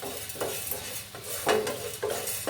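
Cumin seeds and fenugreek frying in a hot pan for pepper gravy, a steady soft sizzle broken by a few louder scrapes and stirs of a spoon against the pan, close by, with no talking.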